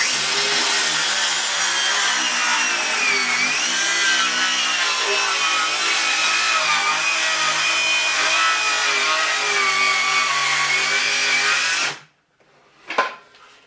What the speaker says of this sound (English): So let's try this one. Plunge cut again.